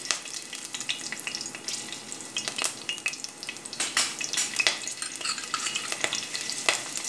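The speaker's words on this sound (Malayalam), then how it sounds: "ചട്ടി അടപ്പത്ത് വെച്ച് ചൂടായിട്ടുണ്ട് അപ്പോൾ നമുക്ക് രണ്ട് പച്ചമുളക് ഞാനിപ്പോൾ ഇതിലേക്ക് ചേർത്ത് കൊടുക്കുന്നുണ്ട്" Green chilies dropped into a hot pan sizzle and crackle steadily, with sharp spitting pops and a clinking utensil now and then, heard close and without any talk over it, while chicken roast is being made.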